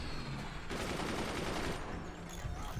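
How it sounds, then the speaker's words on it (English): Dense machine gun fire in the physics-based fort battle strategy game Forts, a continuous rattling barrage of rapid shots, fairly faint and steady throughout with no talking. "Fire more machine guns"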